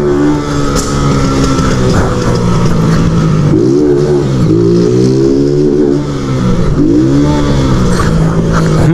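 A car engine revs hard during a night delivery run, loud and close, climbing and dropping in pitch through several gear pulls with brief dips between them.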